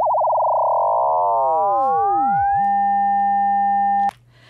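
Synthesized frequency-modulated tone sweeping from 200 to 800 hertz as its modulation rate climbs from once a second toward a thousand times a second, a single warbling tone that thins and buzzes, then cuts off abruptly.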